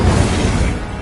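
Incendio fire spell cast in the game Hogwarts Legacy, a dense, loud burst of roaring fiery noise that holds steady for about a second with no pause.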